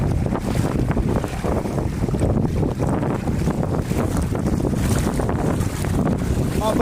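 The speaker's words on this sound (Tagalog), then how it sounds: "Napakalakas ng hangin" Strong typhoon wind roars and buffets the microphone continuously, with rushing floodwater and waves churning underneath; a voice is faintly mixed in.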